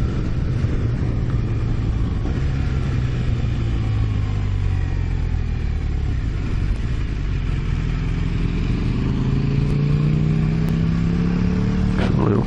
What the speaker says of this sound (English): There's a little KTM there.